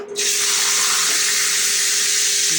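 Cooking oil in a freshly swapped frying pan sizzles loudly and steadily, a broad bright hiss that starts abruptly and holds without a break while steak is being cooked.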